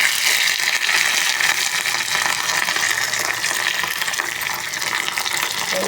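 Hot oil sizzles and crackles loudly and steadily as mustard seeds, green chillies and curry leaves are tempered in a small kadai, a dense hiss of frying with no voices.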